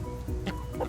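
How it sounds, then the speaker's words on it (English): Four silkie chickens in a chicken tractor cluck softly, several short, close murmuring clucks scattered over a quiet second, no talk. "So we got some new silkies. 4 new silkies making a home in the chicken tractor."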